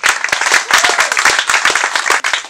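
A church congregation claps during a sermon, loud and close, with distinct sharp hand claps in a quick, uneven rhythm rather than a smooth wash, rising and dipping in bursts.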